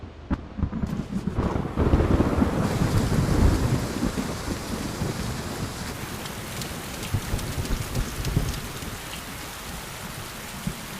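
A sudden rain shower pours steadily with heavy hiss while thunder rumbles low and loud early on, the downpour continuing unbroken with some wind buffeting the microphone.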